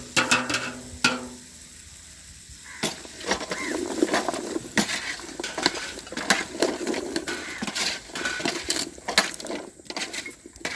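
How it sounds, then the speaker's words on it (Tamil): Chopped vegetables for a vegetable biryani sautéing in a pan, with repeated metallic clinks and scrapes from a spoon against the pan over soft sizzling. The stirring is steady and fairly close, with no talk. "எவ்வளோ மரக்கறி இருக்குது எல்லாத்தையும் போட்டு வதக்குவோம்"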